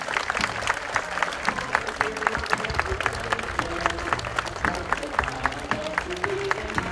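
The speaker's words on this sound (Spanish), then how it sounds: "Un aplauso para todo Viña, es decir." A festival crowd at the Fiesta del Ombú y el Caballo Criollo in Viña claps in dense, steady applause that carries on without a break, with no clear speech over it.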